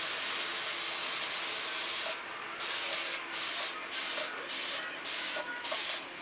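A spray bottle mists water onto hair to wet down a section, a steady hiss broken by a series of short repeated pauses as the trigger is pumped, close and fairly loud with no talking.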